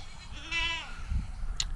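A farm goat, a nanny recently with a baby and once bottle fed, lets out one clear, close bleat with a wavering pitch, followed by a low thump and a faint squeak.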